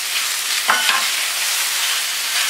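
Sliced zucchini sizzles in a pan, a steady close frying hiss with a brief clack of a utensil stirring early on.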